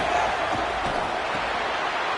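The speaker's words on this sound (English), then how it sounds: "Listen to this crowd just shaking the girders of this place" A packed college football stadium crowd roars steadily during a Gamecocks game, a dense, loud wall of sound that stays constant throughout without a break.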